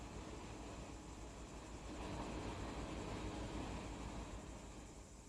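A train passes in the Run 8 train simulator video game, a faint, steady broadband rumble and rolling noise that swells slightly in the middle, no talking.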